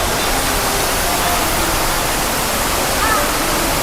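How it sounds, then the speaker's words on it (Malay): A waterfall roars as a dense, steady wash of rushing water, loud and continuous throughout with no pauses. "Ada air terjun."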